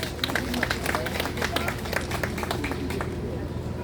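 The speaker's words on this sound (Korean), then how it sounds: "큰 박수 부탁드리겠습니다." A crowd at an indoor gathering claps in a dense patter of sharp hand strikes, with voices murmuring underneath.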